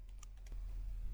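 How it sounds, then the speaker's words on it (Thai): Quiet, scattered taps on a computer keyboard at a desk, a few soft light clicks spread over about a second with low room hum beneath and no voices. "หรือพิมพ์เข้าไปก็ได้นะคะ"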